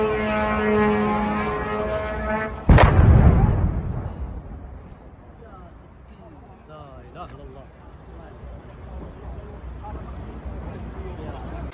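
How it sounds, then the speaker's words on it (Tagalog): A drone falls and detonates in a sudden loud blast that cuts in after a steady tonal hum, followed by a decaying rumble and a quieter noisy aftermath. "Makikita sa video ang pagbagsak ng isang drone na nagdulot ng malakas na pagsabog"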